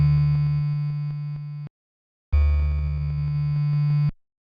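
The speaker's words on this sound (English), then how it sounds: "it is the upper octave tone coming in slower." Sustained upper-octave synth tone from an NES-style wavetable synthesizer module in VCV Rack, played twice as steady buzzy notes with a short silence between, loud and alone.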